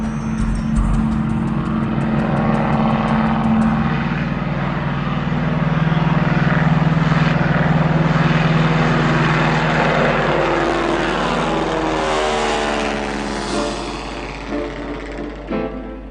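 Vintage 1928 Boeing propeller airplane in flight, a loud steady engine drone with a strong rumbling hum that swells midway and eases slightly toward the end, continuous and close.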